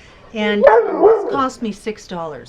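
A pet dog barks and yips in short bursts close by, interleaved with someone talking over it.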